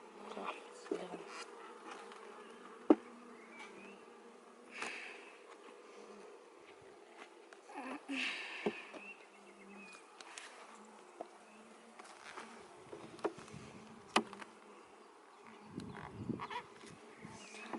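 Honeybees buzz around hive combs during a hive inspection, a steady close hum made up of many insects, broken by occasional handling clicks and bumps.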